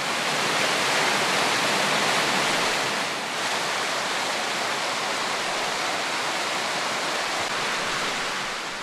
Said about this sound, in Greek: όπου το νερό ρέει άφθονο στις βρύσες του χωριού